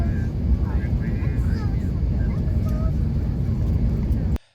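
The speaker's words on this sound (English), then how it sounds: "here's some footage of us landing in Fiji" Fiji Airways airplane landing in Fiji: a loud, steady roar of wind and engine noise fills the whole stretch, then cuts off abruptly at the very end.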